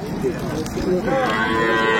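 A dairy cow moos at a cattle market at Aftabganj haat in Dinajpur, one drawn-out, fairly close low call lasting about two seconds, with no talking.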